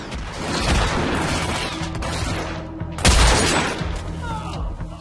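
Sniper shotgun blasts in the video game Hitman: Absolution, heavy booming shots with dense crashing noise, the loudest burst landing near the end amid a busy, cluttered background.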